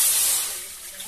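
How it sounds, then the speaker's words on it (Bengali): Water pours into a kadai in a short, close, hissing rush that tapers off within about a second. "এবার কড়াই জল দেবো।"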